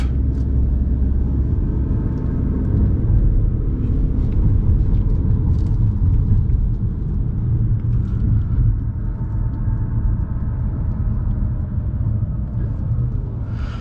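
Inside a Ford Maverick XL hybrid, the 2.5-liter four-cylinder engine runs as a steady, low, gruff rumble under road noise, continuous and moderately loud throughout.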